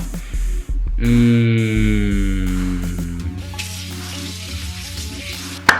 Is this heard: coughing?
no